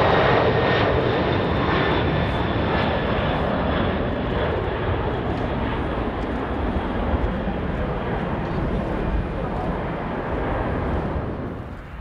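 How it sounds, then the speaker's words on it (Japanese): An ANA Boeing 747-400D jumbo jet taking off from Kumamoto Airport, a loud, continuous engine roar that holds steady for the whole stretch and starts to fade at the very end. "17時9分に離陸。"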